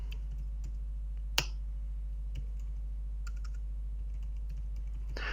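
A few scattered keyboard clicks, one sharp and loud, tap out irregularly over a steady low electrical hum.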